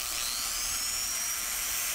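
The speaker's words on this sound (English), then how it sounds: "Now I'm finally going to take our PVC piece and drill a 1/8 hole about 5 millimeters" A drill bores a 1/8 inch hole in a PVC pipe, giving a steady, high-pitched whine that holds close and loud for the whole moment, with no voices.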